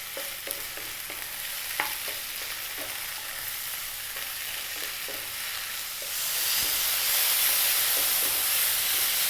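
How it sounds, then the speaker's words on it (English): Mushrooms, button type left whole, fry and sizzle in a pan while being stirred, a steady crackling hiss with a few soft knocks that grows noticeably louder and brighter partway through as their liquid releases. "it's starting to get a bit noisier because the mushrooms are releasing some form of liquid"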